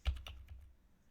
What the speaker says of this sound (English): I'm typing on the wrong one.